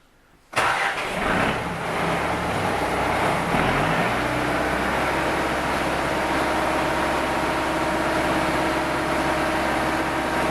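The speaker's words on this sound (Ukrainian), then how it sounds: "Запускаємо трактор і починаємо работу эксудера на сое." A tractor starts and drives a soybean extruder EKZ-130 through its power take-off; after a sharp start the engine settles into a loud, steady, continuous running drone with a low hum that holds throughout.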